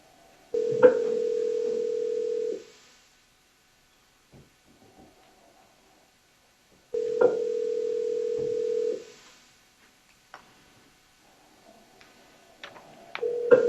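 A telephone rings twice, each a steady electronic tone lasting about two seconds with a pause between, before the call goes through to voicemail; faint clicks follow and no one speaks.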